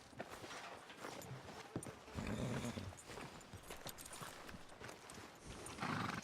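Horse hooves clip-clop steadily in the Red Dead Redemption 2 video game, with a louder burst partway through and again near the end that may include a whinny, all without speech.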